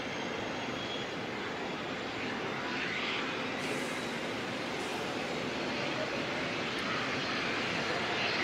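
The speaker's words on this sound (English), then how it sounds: "Jetstar 293 heading off down to Queenstown" A Jetstar airliner departs Auckland Airport for Queenstown, its engines a steady, broad distant roar that holds at an even level throughout with no talking.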